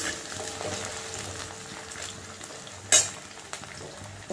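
Potatoes and taro frying together in a pan over high flame give a soft, steady sizzle, with occasional stirring scrapes and one sharp clink of utensil against pan.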